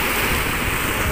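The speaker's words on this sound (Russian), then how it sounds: "Волны бьют" Ocean waves breaking on a shore, a steady loud wash of surf that fills the whole short stretch without pause or voices.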